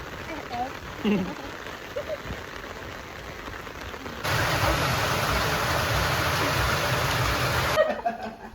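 Heavy rain at a family birthday gathering in Pangasinan, starting as a lighter patter and then swelling into a loud, steady downpour for several seconds before easing. Voices speak faintly underneath.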